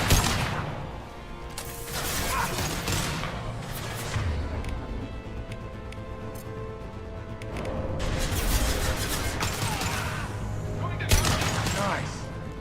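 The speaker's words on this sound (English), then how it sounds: "They're using sniper rifles again" Sniper rifle fire cracks out in Mass Effect 2 combat, with repeated loud sharp shots in irregular bursts over a busy backdrop of game noise and battle sounds.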